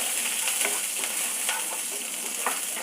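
Green chillies and curry leaves frying in a pan, a steady close hiss of sizzling oil with light stirring scrapes running throughout, no voices.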